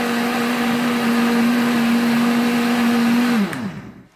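An electric mixer whirs steadily on its lowest speed setting while mixing crêpe batter, a loud, constant motor hum that winds down and stops just before the end.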